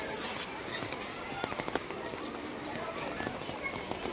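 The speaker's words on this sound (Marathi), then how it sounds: "पोपटाचा आवाज येतोय हा ना" A shrill parrot squawk bursts out at the start at Mumbai's zoo, Rani Baug, followed by scattered fainter parrot calls under people talking and outdoor background noise.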